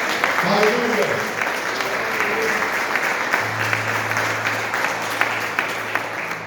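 A church congregation claps together in sustained, dense applause, loud and steady throughout, with a voice calling out briefly near the start over the clapping.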